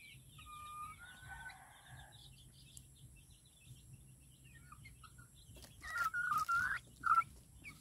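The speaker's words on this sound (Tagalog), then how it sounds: "Makulit na naman itong manok ko." A chicken calls close by, with a drawn-out rising cluck early on, then a cluster of louder clucks and squawks near the end against quiet background noise.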